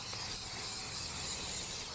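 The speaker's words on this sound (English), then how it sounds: "I'm going to take my spray here on the top portion of this panel" Aerosol spray hissing steadily onto a damaged interior plastic car panel, a continuous close-up spray lasting the whole moment with no talk.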